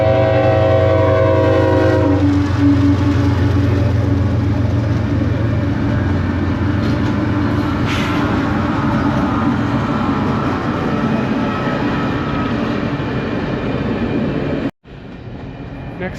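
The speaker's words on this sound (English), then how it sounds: "There's a train coming." A train rumbles past loudly and steadily near Sicamous in British Columbia's Shuswap region, its horn sounding at the start before the heavy rolling noise carries on until an abrupt cut.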